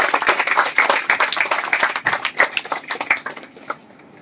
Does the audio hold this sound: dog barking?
no